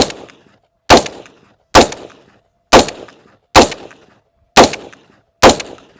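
Seven loud shotgun blasts from buckshot cartridges fire at an FPV drone about 70 metres away in an even, unhurried sequence, each sharp crack trailing off in a short echo before the next.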